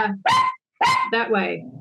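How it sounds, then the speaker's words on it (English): An excited pet dog barking indoors: several loud, close, yappy barks in quick bursts, with a brief pause between them and a voice faintly mixed in. "So that's my dog getting a bit excited."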